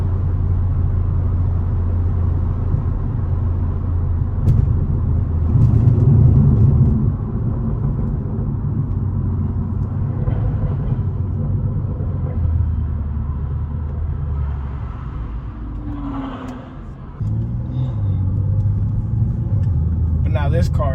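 A BMW M240i with an automatic gearbox accelerates onto a highway, its engine a loud, steady, rumbling drone heard from inside the cabin, briefly dipping and then picking up again as it shifts.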